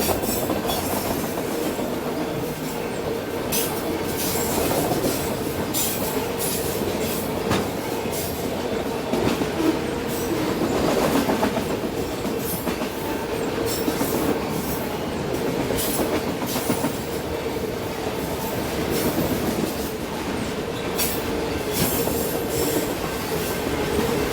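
A long freight train rolls steadily past with a distributed power unit at the rear, its wheels clattering and squealing in a continuous loud roar with no voices.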